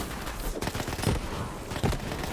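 Rapid automatic gunfire from the video game Borderlands 3 rattles in a dense, continuous burst with a few heavier shots standing out, loud and up close.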